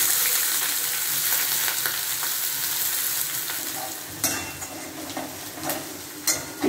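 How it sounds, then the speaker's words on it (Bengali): Onions frying with dry red chilli, cumin and whole spices in mustard oil in a pan give a steady close sizzle, with occasional stirring scrapes and clinks of a spoon against the pan toward the end. "পেঁয়াজটা এবার অল্প ভেজে নিচ্ছে।"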